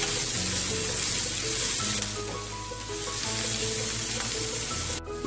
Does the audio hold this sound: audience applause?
no